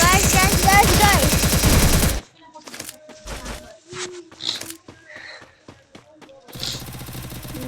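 Gunfire in a shooting video game, a burst of rapid automatic fire followed by scattered single shots and bursts, with a player talking over parts of it.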